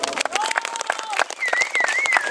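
Scattered outdoor applause from a crowd at a race results announcement, with whistles rising over the clapping and voices mixed in.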